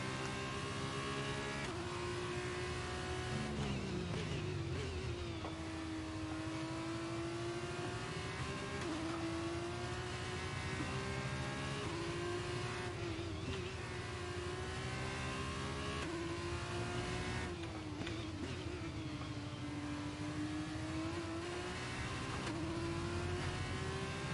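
Formula 2 race car in the F1 23 video game at Bahrain, a high-pitched engine wailing steadily with gear-change dips while running in another car's slipstream, loud and close with no talk.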